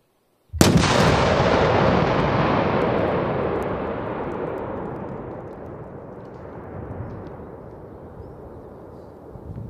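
A single powerful demolition charge detonates during a paratrooper exercise, a sudden loud blast followed by a long rolling rumble that slowly fades over several seconds.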